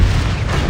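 A Confringo blasting spell explosion in the Hogwarts Legacy video game, a short, loud, deep booming rumble filling the whole moment without pause or any voice.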